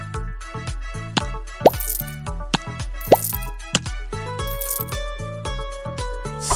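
Fruit pieces drop into a tropical drink in a cartoon dress-up cooking game, making two or three short, bright plops over cheerful, steady background music.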